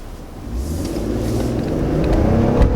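A 2022 Toyota Tundra SR5 pickup accelerates from inside the cab, its engine note rising in a steady, building low drone with road noise over a few seconds.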